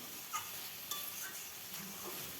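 Masala frying in a pan for mushroom kosha gives a faint, steady sizzle, with a few soft stirring scrapes and light clinks of a spoon against the pan.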